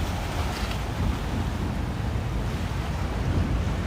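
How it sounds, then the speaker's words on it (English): At high tide on a Williamsburg, Brooklyn waterfront, water sloshes in a steady low wash with wind rumble on the microphone, continuous and moderately loud. "It's high tide right now, so you hear the water sloshing around."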